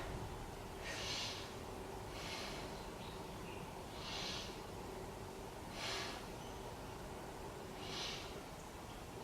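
Slow deep breathing held in a yoga pose, five soft, airy breaths at steady intervals of about two seconds, faint and close, with no talk.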